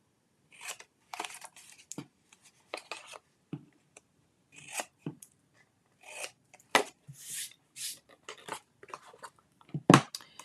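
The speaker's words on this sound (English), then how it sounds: "we got to trim these tabs also" Scissors trim the tabs of a paper box template, a string of short snipping and rasping cuts at an irregular pace, close and quiet with pauses between them, no talking.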